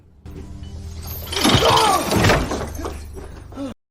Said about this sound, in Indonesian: Solomon dipukul dengan papan dengan sangat keras hingga papannya hancur